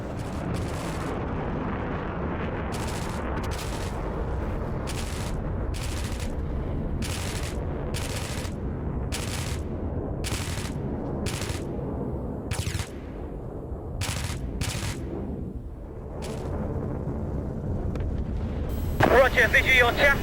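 A dramatised GBU-12 laser-guided bomb detonation rumbles as a long, loud, sustained roar with crackling bursts, building to a sharper blast near the end.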